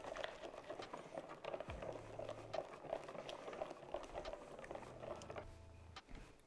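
Warm cream and milk stirred into tempered eggs in a bowl, a steady soft liquid swishing and patter with faint rhythmic scraping running throughout, close and moderately quiet, with no talking.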